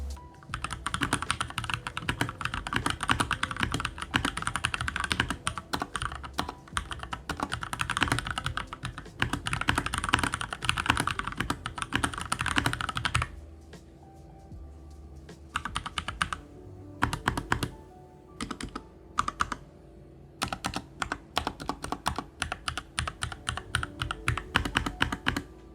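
Steady typing on a Keychron K2 mechanical keyboard fitted with Gateron brown switches, a dense stream of close, crisp tactile clacks that pauses briefly midway before resuming in quicker, more scattered bursts.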